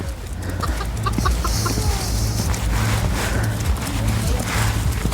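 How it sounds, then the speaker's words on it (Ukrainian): Small dwarf bantam chickens and roosters cluck and call amid farmyard noise, with hoof clops and a horse nearby and people talking in the background. "Тут курочки такі маленькі, карлікові чи пітушки. Півні, півні маленькі."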